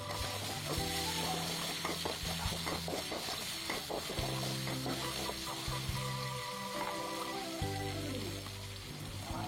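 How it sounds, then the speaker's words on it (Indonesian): Sliced red and green chilies stir-fried in hot oil with ground spice paste for homemade fried rice give a steady, close sizzle with scraping stirs throughout, and music plays underneath. "Kemudian masukkan juga cabai merah dan cabai hijau yang sudah diiris tadi."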